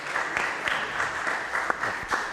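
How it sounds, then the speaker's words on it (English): Audience at a Paterson, New Jersey municipal council meeting breaks into steady applause, a dense roomful of clapping hands sustained throughout with a few sharper claps standing out nearby. "So give me a round of applause"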